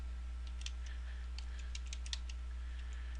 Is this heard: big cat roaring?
no